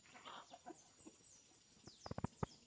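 A hen clucks in short, sharp bursts while fighting among farm chickens, a quick cluster of loud calls near the end over a noisy outdoor background.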